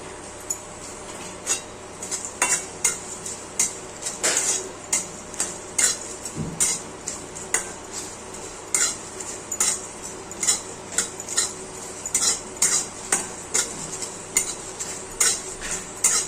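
Bay leaf, dry chilli, cumin and peppercorns fry in a pan while a metal utensil stirs and scrapes, making repeated sharp clinks over a soft sizzle at a steady, close rhythm.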